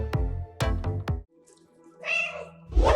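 In the video game Stray a cat gives several short, close meows in quick succession, then a pause. Softer trilling and a breathy rustle follow, with no talking.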